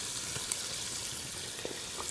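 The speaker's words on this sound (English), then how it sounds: "You want to really get those frying in that grease." Chicken gizzards frying in hot grease, a steady broadband sizzle with scattered pops and splatters throughout, close and even in level.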